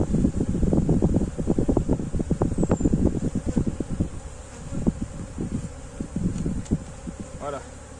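Honeybees swarming around a hive super during a flower-honey harvest, a steady close buzz with thumps and knocks of handling and light wind noise against the microphone.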